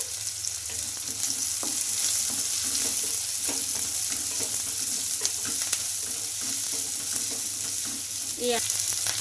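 Two sprigs of curry leaves fry in hot oil with chopped garlic in a pan. A steady close crackle and sizzle with scattered pops and occasional stirring scrapes runs throughout, without talk.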